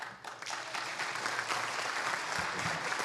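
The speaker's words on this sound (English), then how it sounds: "Big round of applause for Pete Lopez, our chair." Audience applause at an annual meeting after a chair introduces the president and CEO, a steady patter of many hands clapping at moderate distance, holding evenly for about three seconds.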